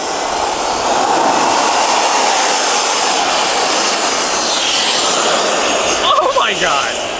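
A jet engine on a hidden custom build roars loud and steady for several seconds, a broad continuous rush with a slight whine shift near the end.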